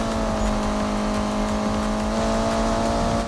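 A Subaru car engine straining at high revs in the Need for Speed video game, a loud, steady droning roar with constant tonal hum and no talk over it.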